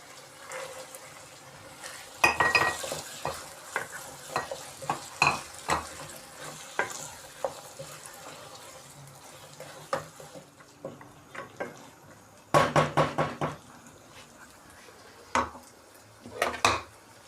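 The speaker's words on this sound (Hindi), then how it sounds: "मसाले हमारे सही तरीके से भुन चुके हैं। अब इसके अंदर हम मटर डालेंगे।" Keema masala being stirred and fried in a pan, with peas tipped in, a spoon clattering and scraping against the metal in irregular bursts over a soft sizzle, with a louder flurry of scrapes toward the end.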